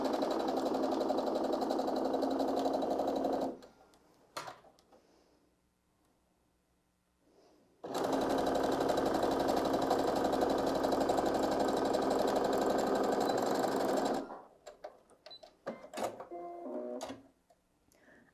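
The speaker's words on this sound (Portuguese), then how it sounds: "a gente vai fazer essa costura na parte de baixo da estampa" A sewing machine runs a seam along the bottom of a printed fabric piece for a toiletry bag, two long, even, close motor hums separated by a quiet gap, then scattered handling clicks.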